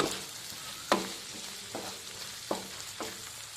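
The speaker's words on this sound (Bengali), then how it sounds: "চিংড়ি মাছটা ভেজে নেওয়ার এই পর্যায়ে আমি সামান্য একটু নুন দিয়ে নাড়াচাড়া করে নামিয়ে নেব।" Shrimp frying with a little salt in a pan, a close steady sizzle punctuated by a few sharp scrapes and clacks of stirring, no talking.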